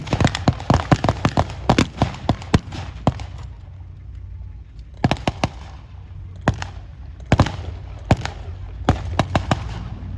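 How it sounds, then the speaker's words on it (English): Automatic gunfire from machine guns and a BAR rifle at a WW2 battle re-enactment at Tankfest 2024 crackles in sharp rapid bursts and single loud cracks, separated by pauses over a low rumbling outdoor background. "They've got some machine guns there, some BAR, you can see both the automatic rifle in use."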